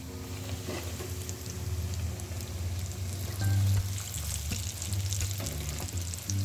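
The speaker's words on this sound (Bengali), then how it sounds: "এখন আমি বাকিগুলোও ভাজবো।" Potato and noodle snacks fry in hot oil with a steady, dense sizzle and crackle that holds even throughout, heard up close with no voices.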